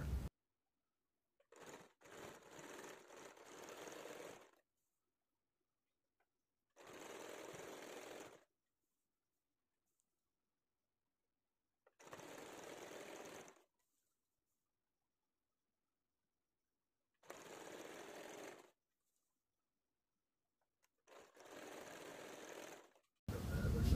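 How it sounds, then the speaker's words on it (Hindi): Electric sewing machine stitching an old saree into a lehenga, running in five separate bursts of a few seconds each with silent pauses between, close and clear. "इस तरह से पूरा सिलाई हमें कर लेना है।"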